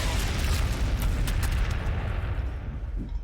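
Several frag grenades burst in quick succession in the Warhammer 40,000: Sanctus Reach battle game, loud rumbling booms with sharp cracks layered over continuous low thunder, fading slightly toward the end.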